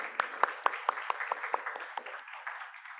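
Congregation at a Korean church service in Birmingham applauding in welcome, a modest round of separate distinct claps that thins out and fades over a few seconds.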